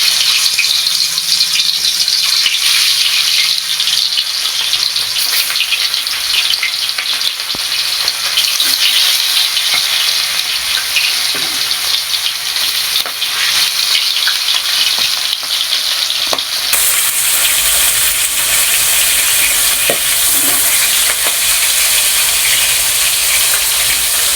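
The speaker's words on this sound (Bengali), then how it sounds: "এবার আমি একটু মাছটাকে হালকা করে ভেজে নেব।" Chela fish frying lightly in oil in a wok, a steady close sizzle with spitting crackles that runs unbroken and alone throughout.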